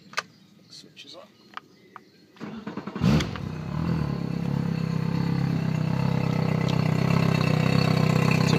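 A Yamaha F70 outboard on a 2012 C Fury Patrol boat, run on water muffs with 65 hours on it, cranks briefly after a few clicks and catches, then settles into a steady, close, even idle.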